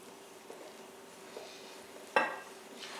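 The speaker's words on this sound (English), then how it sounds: "I stir in one direction" Cinnamon roll dough stirred in one direction in a bowl: soft, faint stirring noises with a few light taps and one sharper clink of the utensil against the bowl.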